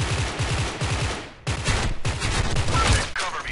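M16A3 rifle firing in short bursts in Special Force 2, two loud, close volleys of rapid shots separated by a brief pause, with no talking.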